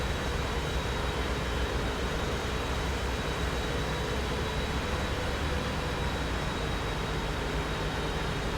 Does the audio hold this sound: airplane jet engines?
yes